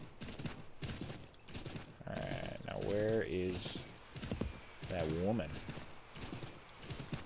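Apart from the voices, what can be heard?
horse hooves galloping in video game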